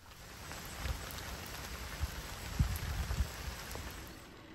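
Steady rain falls outside beside a canal boat, with a constant hiss and scattered heavier drops and patters. No voices are heard.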